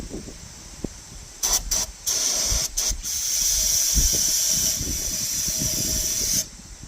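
Brake cleaner sprays in loud hissing bursts into the engine of a long-sitting 1970 Ford F100, first in short blasts and then one sustained spray lasting several seconds.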